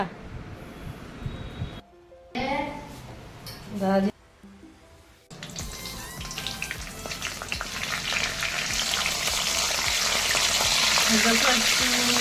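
Paneer curry frying in a pan, a loud dense sizzle that swells and holds steady for several seconds after a few broken bursts of voice and clatter at the start.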